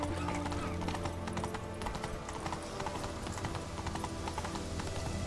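Roach the horse in The Witcher 3, hooves clip-clopping in a steady brisk rhythm over a dense bed of game music and ambience, near and continuous with no speech.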